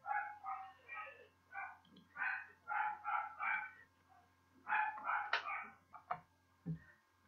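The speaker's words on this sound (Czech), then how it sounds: "mě tady furt štěkaly psy" Several dogs bark repeatedly in clustered bursts at moderate distance, with short pauses between volleys and a few higher yips near the end, and no talking over them.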